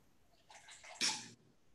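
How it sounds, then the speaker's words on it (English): Water is poured out of a container in one short, gentle splash lasting under a second, with a brief slosh at the end, close by and otherwise quiet. "Gotta pour some of my water out."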